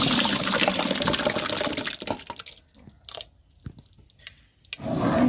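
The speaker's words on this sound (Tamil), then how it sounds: "இப்போ அரைச்சி வச்சு தக்காளியை வந்து இதில் ஊற்றிக்கலாம்ப்பா" Ground tomato paste for tomato thokku is poured into hot oil, a thick wet sloshing and sputtering that fades into scattered soft plops and sizzles before a louder burst returns at the end.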